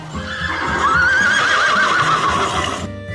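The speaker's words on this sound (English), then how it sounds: "horse," A horse whinnies in one long, wavering neigh lasting nearly three seconds, loud and close, with a soft low background underneath before it cuts off.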